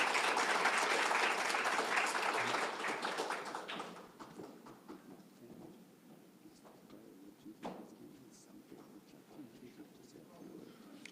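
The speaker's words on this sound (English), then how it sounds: "a big round of applause for our delegation" Applause for a delegation at a Justice of the Peace swearing-in ceremony for the Belize California chapter is fairly distant. It is full for about four seconds, then thins to scattered claps with faint talk underneath.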